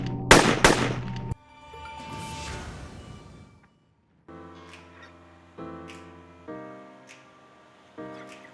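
Gunshots in a dramatized crime reenactment set in Newport Beach: a burst of loud, sharp reports at the start, followed by ringing, droning tones with a few further sharp accents, no voices.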